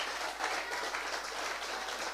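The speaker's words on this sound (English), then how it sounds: "give a lusty round of applause for Dr. Kimal Williams" A crowd gives a round of applause at an athletic awards ceremony. Even, continuous clapping is heard from a distance at a faint level, with no talk over it.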